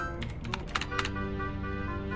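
Quick bursts of keystrokes on a terminal keyboard in the video game Lethal Company, several close clicks in a short run over a steady background hum of the game.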